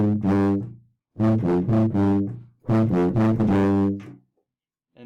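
Tuba plays a short melodic phrase of the Thomas the Tank Engine theme in three loud, sustained bursts separated by brief pauses, rich low brass tone with strong harmonics.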